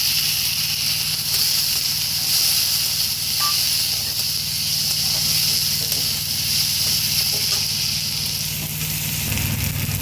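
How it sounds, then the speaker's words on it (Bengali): Chopped medium tomato sizzling in fried spice paste for a moong dal with fish head. A steady bright hiss of frying runs the whole time at a moderate level, with no talking. "মশলাটা ভাজা হয়ে গেছে, এবার আমি দিয়ে দেবো টমেটো কুচি।"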